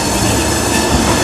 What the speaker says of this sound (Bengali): ট্রেন আমাদের শালিমার স্টেশন থেকে 4 কিলোমিটার পথ অতিক্রম করে চলে এলো তার যাত্রাপথের প্রথম স্টপেজ সাঁতরাগাছি জাংশনে